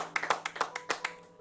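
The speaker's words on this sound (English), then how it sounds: "Let's give them a round of applause." Applause for Nigerian comedians comes through as about nine sharp, separate claps in a quick, uneven rhythm, close and fairly quiet, then fades out with no talking.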